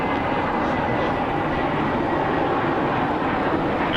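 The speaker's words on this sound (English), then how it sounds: "We have a go around happening as we speak." Airliner going around close to the runway, a steady loud broadband jet roar held at constant level throughout, with no talk.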